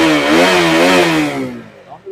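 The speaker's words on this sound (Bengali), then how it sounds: "গাড়ি স্টার্ট করে দাও, বুঝতে পারবে।" A used RC200 motorcycle engine revs loudly up close at a bike showroom near Kolkata, a strong buzzing roar held high and then easing off before a short blip at the end.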